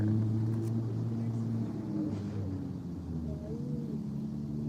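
A Ferrari rolls along a rough street full of bumps and potholes, its engine a low steady rumble heard from a park, fairly distant, with faint background noise and occasional light knocks.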